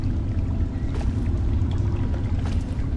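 Water pours and flows steadily in Fallout 3, a continuous rushing wash with low rumble, fairly close and unbroken throughout.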